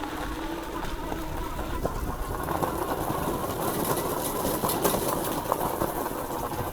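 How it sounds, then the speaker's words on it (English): A dirt bike climbs a steep hill with a continuous, rough engine drone that stays at a fairly even level throughout, along with wind and rumbling from the terrain. "Dirt bike."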